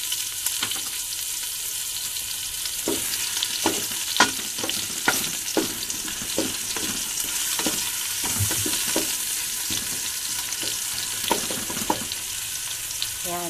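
Chopped onions sizzle steadily in hot oil in a pan for Filipino pineapple chicken, a dense, continuous crackle broken by a few sharp scrapes and clicks of stirring, with no talking.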